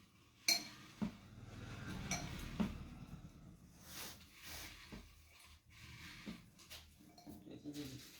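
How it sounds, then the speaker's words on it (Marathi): Small lottery tokens are stirred together by hand for a live lucky draw, producing soft, irregular clinking and shuffling rattles at fairly low volume with a few sharper clicks, with no talking. "आपण छानपैकी हे टोकन सर्व मिक्स करणार आहोत."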